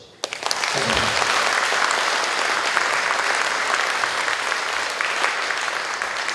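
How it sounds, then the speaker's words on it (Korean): Applause from an audience of overseas Koreans at a Toronto political party founding rally, starting with a few claps and swelling into steady, dense clapping that continues alone for several seconds. "여러분 박수 한번 주시죠"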